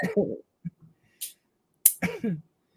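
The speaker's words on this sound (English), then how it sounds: "It makes you cough." A couple of short, sharp coughs break up stretches of talking nearby.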